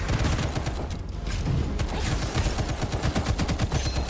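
Rifle gunfire in the video game Gunfire Reborn: rapid, loud bursts of shots in quick succession with a dense, rattling rhythm and no pauses.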